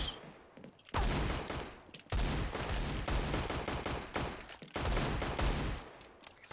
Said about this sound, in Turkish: AFK adama 85 tane mermi atan ben